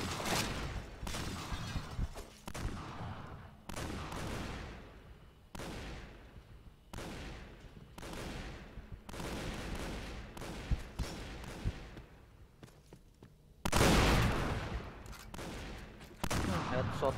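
Repeated loud bursts of gunfire ring out in a shooting video game, spread across the stretch with brief gaps and occasional heavier volleys.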